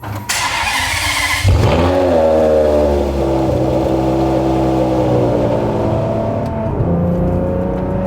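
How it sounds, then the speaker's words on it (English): A Ferrari 599 GTO's V12 engine cranks and catches with a sharp roar, then settles into a deep, steady idle with a brief blip of revs, loud and close. "Let's go ahead, get in, fire it up, hear that V12"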